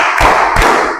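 An audience claps together on cue at an Islamic religious education teacher training session, landing two sharp, loud unison claps over a noisy room.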